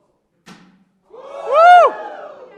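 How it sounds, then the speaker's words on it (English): A church audience at a bean bag toss competition erupts in a short burst of cheering and whoops after a brief thud, the shout rising loud and near, then falling away quickly. "You guys on that side are cheering for Chad with the red bags"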